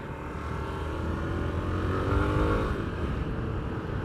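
Dual-sport motorcycle engine droning steadily while riding on gravel and dirt, with a rising rev midway and constant wind and road rumble throughout.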